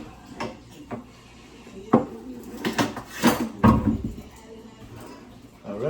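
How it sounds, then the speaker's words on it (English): A cutting board pulled out from among dishes in a home kitchen: a scatter of close wooden knocks and clattering pots and plates, irregular and moderately loud, with a heavier thump and rattle near the middle. "I should take out my cutting board, but sometime. All right, let me take it out."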